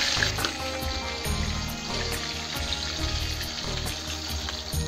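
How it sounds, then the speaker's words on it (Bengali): Tangra fish frying in hot oil for a potato and tangra curry, a dense, continuous close sizzle with bubbling crackle and occasional spatters, no voices. "আর বাকি মাছ কটা ভেজে নেবো।"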